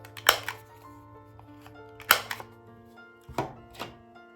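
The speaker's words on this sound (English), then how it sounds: "I'm gonna go ahead and round my corners on this one" Corner rounder punch cutting the corners of paper for a junk journal page pocket, three sharp separate clunks spaced about a second and a half apart, close up with quiet room background.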